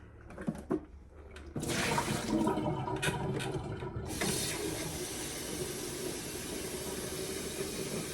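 Water rushes and hisses steadily close by, starting after a few soft knocks and building into a continuous broadband roar with a brief lull partway through, like a kettle filling from a tap or heating for boiling on a cold winter day.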